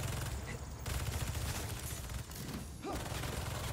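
Turret gunfire rattles in rapid, continuous bursts in the video game Marvel's Spider-Man 2, fairly quiet overall, with brief gaps between volleys.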